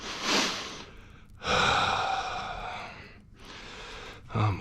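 A man breathes heavily during a weight lifting workout, with three long, loud, rasping exhalations separated by short pauses, close to the microphone and without talk.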